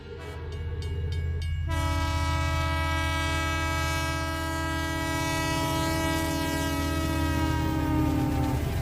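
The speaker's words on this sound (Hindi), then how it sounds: "और अब ट्रेन धीरे धीरे चलने लगता है।" Train sound effect: a long sustained whistle blast sounding alongside the low rumble of a train slowly starting to move, loud and continuous for several seconds, with a brief rattle at the start.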